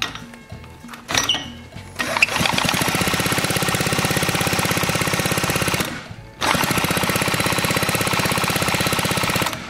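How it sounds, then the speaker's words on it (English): A power drill in reverse whirs steadily while turning over a 1956 Eclipse Wasp chainsaw engine, a rapid rhythmic chugging that cuts out briefly near the end and then resumes. "I got the socket in my drill, and in order to spin it the right way,"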